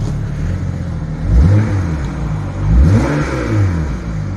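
A BMW 335xi with both exhaust flaps open is revved twice, each blip rising to a deep, loud roar and falling back to a rumbling idle, recorded up close with no talk.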